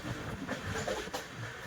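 The Secunderabad Express rolls along as heard from inside a sleeper coach, a steady low rumble and rattle of the carriage on the rails, close and continuous, with no voices.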